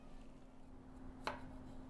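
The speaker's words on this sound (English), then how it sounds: "I am chopping the last carrot" A knife makes a single crisp chop through a carrot on a cutting board in a kitchen while beef bourguignon is being prepared, one quiet isolated stroke over a low steady background hum.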